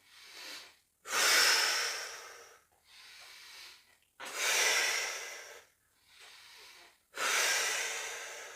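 Heavy rhythmic breathing of a person exercising on a rowing machine, close and loud, with long forceful exhales in about four bursts separated by short quiet gaps, no talking.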